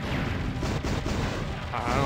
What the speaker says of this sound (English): Oh, somebody's shooting at me, I think.